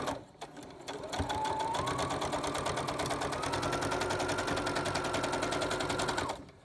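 A sewing machine stitches a pleated fabric mask in one continuous run of rapid, even needle strokes after a few quiet handling sounds, and stops just before the end.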